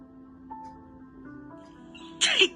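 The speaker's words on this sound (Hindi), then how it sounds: "अरे आप छींकने में इतनी नजाकत है आपके" A woman sneezes once, a short sharp burst near the end after a quiet stretch of low hum and faint household sounds.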